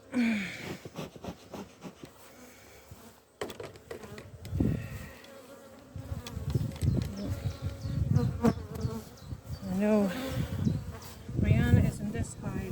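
Honey bees buzz around hives in Ireland in May, a close, fluctuating drone of many insects with a few louder passes, while a person talks among them.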